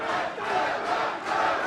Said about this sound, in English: The crowd are going back and forth.